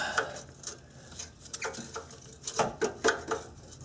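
A 1/4 inch drive ratchet with a 13 mm shallow socket works an exhaust bolt under a Honda Accord, irregular short bursts of clicking that grow busier and louder toward the end, close and quiet without speech.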